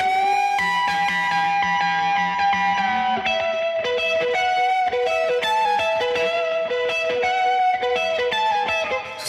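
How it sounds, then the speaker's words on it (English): An electric guitar solo pushed through hard saturation on a Kiive Audio FilkChannel Mk2 plugin, heard loud and alone: driven, sustained lead notes and bends with a gritty, harmonically rich edge over a steady mix. "So I'm driving the saturation kind of hard here,"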